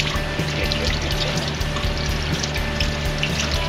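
A gutted rainbow trout rinsed under a running tap, with a steady gushing stream of water and small splashes as the fish is moved through it, continuous and close.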